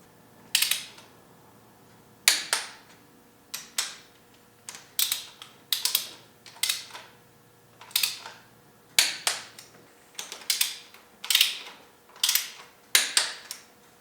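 Ratchet cranking down the cylinder head bolts on a BMW E30 during a head gasket job, heard as about a dozen short, sharp bursts of rapid clicking, evenly spaced and close by, with no talk.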